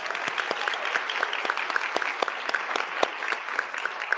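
Audience applause at a school board trustees' meeting, a steady patter of many hands clapping with crisp individual claps standing out, moderately loud and sustained without talk.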